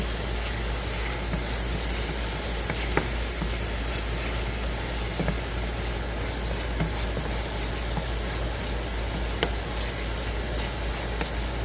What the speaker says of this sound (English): Let's go check the sauteed vegetables.